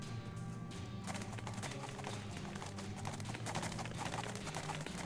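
A dense, continuous rumble of a cow herd's hooves stampeding in the video game West of Loathing, loud and chaotic, with no clear individual steps and no talking.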